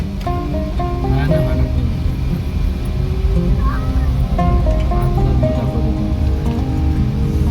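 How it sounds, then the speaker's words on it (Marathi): Sea waves washing on the shore at Kunkeshwar, Devgad, at sunset as a steady broad surf wash, heard under birdsong and people talking nearby. "समुद्र एकदम भरलेला एकदम वाटतोय"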